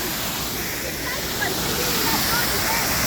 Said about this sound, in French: La cascade.